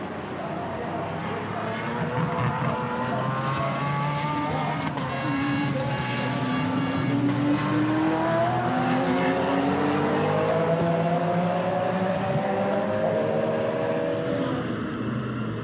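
Race cars roar past during the Nürburgring Nordschleife 24-hour race, engines sweeping up through the gears in a steady loud drone with rising whines as they overtake, a commentator talking over the noise.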